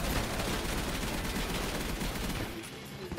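Rapid, continuous automatic gunfire in Call of Duty: Black Ops 3, dense and loud for nearly the whole span before tailing off abruptly near the end.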